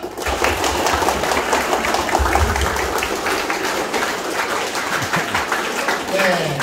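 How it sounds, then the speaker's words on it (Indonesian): A group of people claps hands together in a steady, dense patter during a clapping exercise at an Islamic religious lecture, with a voice talking over the clapping. "Makanya coba kita latihan tepuk tangan bebas asam urat."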